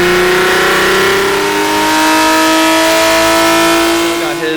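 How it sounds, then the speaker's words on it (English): A race car's engine revs hard and steadily on a chassis dyno, a loud continuous mid-pitched drone whose tone climbs slightly through the pull, with no pause or talk. "So we got it all done, got the car on the dyno."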